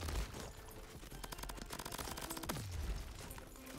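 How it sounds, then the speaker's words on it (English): Dense, continuous bursts of rapid gunfire and booming blasts in the third-person shooter game Crab Champion, loud and chaotic, with a falling whistle-like tone near the end. "The explosions are going off."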